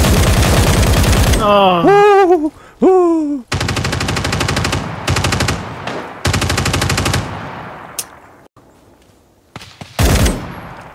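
Sustained machine gun fire with tracers in the Ground Branch shooter game comes in several long, loud, rapid bursts with short gaps between them. A brief groaning voice is heard near the start.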